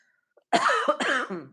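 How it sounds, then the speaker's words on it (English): A person coughs twice in quick succession, close and fairly loud, after a short near-silence. "Excuse me, I'm coughing like crazy."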